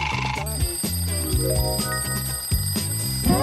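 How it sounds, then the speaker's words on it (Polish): A children's alarm clock rings in a cartoon-style household scene, its bright repeated chiming ringing loud and continuous over a busy musical background for a few seconds. "Wiem, co oznacza ten budzik."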